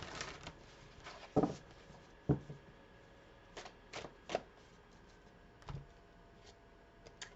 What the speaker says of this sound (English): we'll pull another card here